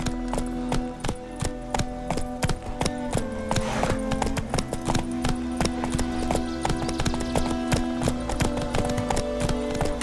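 Clip-clop hooves of Roach, the horse in The Witcher 3, keep up a steady trotting rhythm close by over a busy game soundtrack with music and ambience.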